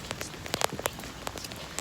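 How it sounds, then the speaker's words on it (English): Light rain falling outdoors in Denmark, heard as quiet sparse patter with irregular crackly drop ticks, faint and close, with no talking. "Do you see the rain?"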